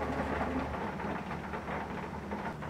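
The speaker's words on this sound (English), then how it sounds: "It's raining." Steady rain falling outside, a continuous broadband hiss with a low rumble underneath, heard from indoors at moderate level with no talking.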